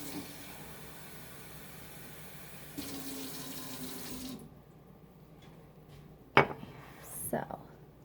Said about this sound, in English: I'm going to fill this cup with water